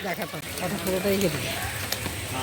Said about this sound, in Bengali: এই যে মুসলধারে বৃষ্টিটা এলো